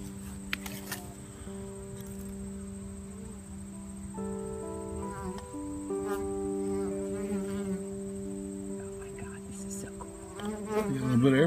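Honey bees buzzing inside an open hive, a dense close-up drone of many wings with shifting pitch tones that swells louder toward the end.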